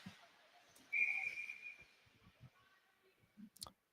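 A referee's whistle at a women's college club ice hockey game gives a single sharp blast that rings out clearly and trails off over about a second, with faint clicks and scattered background noise around it.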